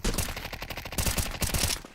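Rapid bursts of close, loud gunfire in a Counter-Strike 2 match, clusters of sharp shots in quick rhythmic succession with brief gaps between volleys.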